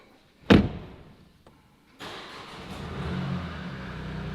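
A 2022 BMW 218i being rebuilt after salvage: a hard bonnet slam, a short pause, then the engine catches and settles into a steady, fairly close idle.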